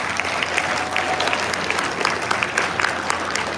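Audience applause for a performer at a Start Here Academy event: dense, steady clapping from a crowd that fills the room evenly from start to finish, with no voices above it.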